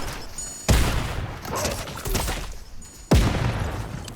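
Loud electronic bursts and blasts from a shield breaker EMP in the Fortnite video game, two sharp booming hits about two and a half seconds apart, each trailing into a crackling, noisy wash of game effects.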